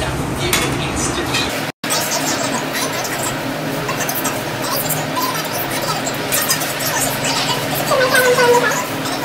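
Plates and steel utensils clink and scrape while a home meal of fried surmai fish and prawn gravy is served, busy continuous kitchen clatter close by with a voice talking over it.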